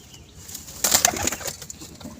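Pigeons in a loft at a home pigeon sale, with a few soft coos and a brief burst of wing flapping in the middle, close by, over quiet background noise.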